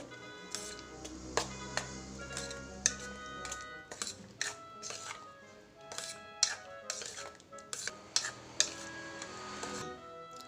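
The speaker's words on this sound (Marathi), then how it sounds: "आता हे चांगलं मिक्स करून घेऊ" A spoon scrapes and clinks against a dish while peanut chutney is mixed for idli, giving irregular sharp ticks and knocks over a faint background hum.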